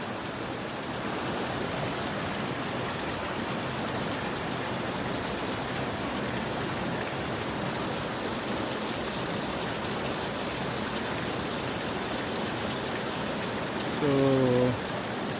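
Spring water flowing near a river, heard as a steady broadband rush of running water that continues unbroken, with a short faint tonal sound near the end.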